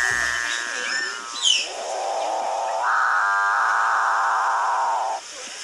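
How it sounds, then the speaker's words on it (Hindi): A capuchin bird of the South American rainforest gives its deep, ghostly, almost electronic drone, a long sustained low moo that holds and rises slightly for several seconds before stopping, preceded by some higher bird chirps. "Capuchin bird. रहस्यमयी और अनोखी आवाज़ वाला पक्षी।"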